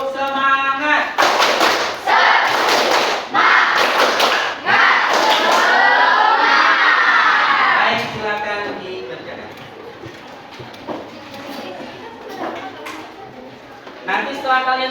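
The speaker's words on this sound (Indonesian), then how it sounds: "Tepuk semangat." Classroom students perform a tepuk semangat clapping chant, with loud rhythmic bursts of claps in the first half, followed by quieter mixed classroom noise and voices.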